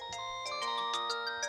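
A cartoon phone ringtone chimes in quick repeated electronic bursts, loud and close, with no voices over it.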